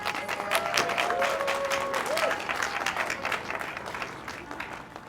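An audience applauds at the opening of the Middletown library in Louisville, steady crowd clapping that stays fairly loud and dense throughout, slowly tapering toward the end, with a faint voice briefly heard through it.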